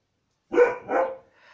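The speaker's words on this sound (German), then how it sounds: "der Hund muss mal wieder ein bisschen wachen" A household dog barks twice in quick succession nearby, loud and alone in a quiet room, followed by a faint trailing sound.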